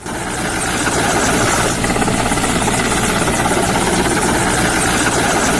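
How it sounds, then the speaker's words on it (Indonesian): A water-bombing helicopter fighting forest fires in Kalimantan gives a loud, steady rotor-and-engine roar with a dense thrumming pulse, constant throughout and close by. "upaya pemadaman juga dilakukan melalui udara lewat helikopter bombing"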